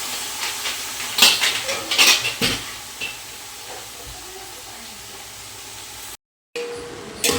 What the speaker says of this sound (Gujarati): હવે આ બધા ધોયેલા પરવળનું પેસ્ટ નાખી દેવાના છે